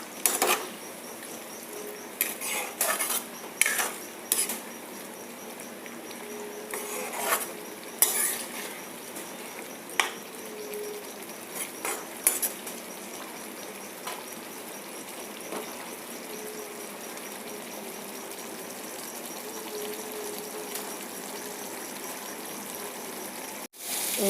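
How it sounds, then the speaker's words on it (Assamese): Rajma, potato and pumpkin stirred and fried in a pan, a soft frying hiss punctuated by repeated sharp scrapes and clinks of a spoon against the pan. "এয়া মই ভাজি ল'লোঁ"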